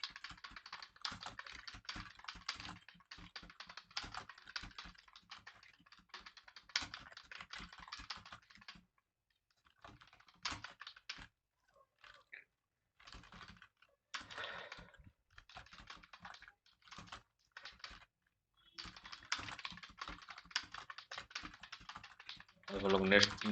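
Steady fast typing on a computer keyboard during a Hindi typing lesson, dense clattering key presses with brief pauses, fairly close and clear.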